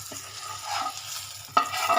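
Fried pointed gourd is stirred into a pan of rohu fish curry, a few scraping stirs over a low sizzle, with a sharper clatter near the end, close up and without talking.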